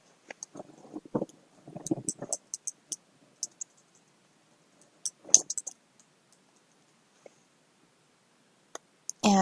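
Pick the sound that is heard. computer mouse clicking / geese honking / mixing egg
computer mouse clicking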